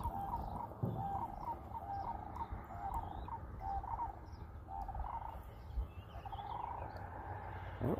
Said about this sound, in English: Oh, some kind of bird straight ahead over there.